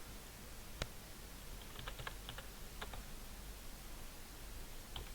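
Typing on a computer keyboard while editing poster text, a few light scattered key clicks over a faint steady background hiss, quiet and close.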